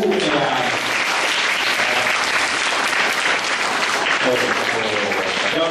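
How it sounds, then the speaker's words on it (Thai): A school audience applauds a school administrator at an evaluation results announcement, with sustained dense clapping from a large crowd, loud and steady throughout. "ปรบมือให้ท่านผู้บริหาร"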